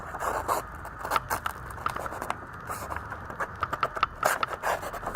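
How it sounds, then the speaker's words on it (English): A knife blade scrapes against an abrasive-coated golf ball in quick, uneven strokes, a close, gritty rasping that repeats throughout. "So I will try to sharpen this knife using this ball."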